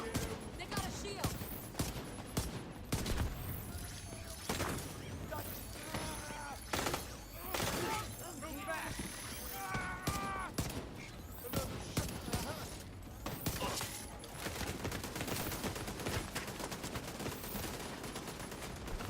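Turret gunfire in The Division 2 during a firefight, rapid loud bursts mixed with other shots and chaotic combat noise, with voices talking at times.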